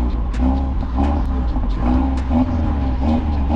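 A 400 hp Audi RS3 engine runs close by with a loud, steady, throaty rumble, held at high revs and faintly crackling throughout, with no voices.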